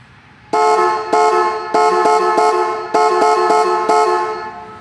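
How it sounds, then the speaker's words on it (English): A pair of 1970 Chevelle car horns, mounted on a bracket, blares in a series of loud, close honks, some long and some short, with brief gaps between blasts. "we have both of our horns mounted on the bracket, and let's see how they sound"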